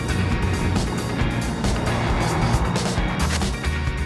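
Winfield BMW racing car engine, a loud, dense, continuous roar at close range with rough mechanical texture throughout, no speech over it.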